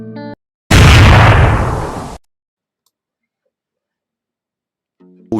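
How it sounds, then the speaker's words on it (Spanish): A single loud gunshot cracks out at nightfall in the mountains, a sharp burst that rings and fades over about a second and a half, standing alone between stretches of silence. "Un disparo. Ese sonido escandaloso."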